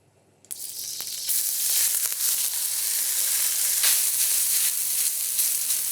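Noodles hitting hot oil in a pan burst into a loud, close sizzle that swells after a quiet start and holds steady, with faint stirring and no voices.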